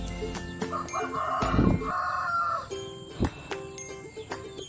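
Chickens and a rooster at a free-range chicken coop: a rooster crows loudly up close while hens cluck around it, with a few sharp knocks and clucks after the crow.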